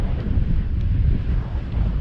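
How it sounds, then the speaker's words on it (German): Strong outdoor wind buffeting the microphone, a loud continuous low rumble with no pauses and no voices. "weil die Tonaufnahme wird bestimmt nicht so schön sein durch den extremen Wind"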